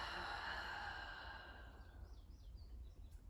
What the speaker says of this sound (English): A nice long exhale.